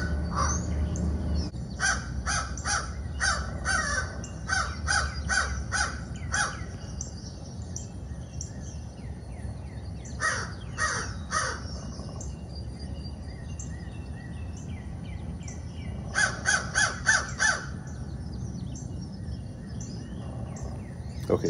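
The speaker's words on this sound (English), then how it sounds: "So I got the video rolling of the crow and raven calls." Crow and raven calls played back from a recording, repeated harsh caws in bursts with pauses between, loud against a steady low background hum.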